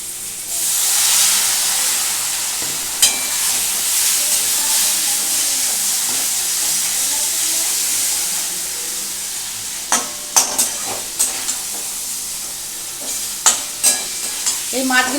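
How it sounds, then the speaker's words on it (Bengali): Boal fish curry frying in a pan gives a loud hiss and sizzle that eases after water is added, followed by a run of sharp spoon scrapes and clatters as the fish is stirred. "সুন্দর করে এর মধ্যে একটু নাড়াচাড়া করবো একটু সামান্য জল দিচ্ছি এই মাছগুলো"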